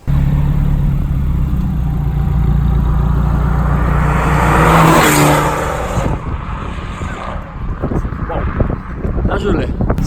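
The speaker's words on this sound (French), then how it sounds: "Tu vas nous montrer un petit peu les vocalises de la 4C et une petite accélération." An Alfa Romeo 4C's engine revs hard and accelerates, a loud rising drone that peaks and then drops into a rougher, uneven rumble, with people talking over it.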